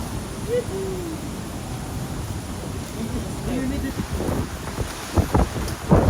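Strong storm wind roars steadily at a waterfall while rain falls, a constant loud wash with gusty bumps toward the end and voices talking faintly beneath it.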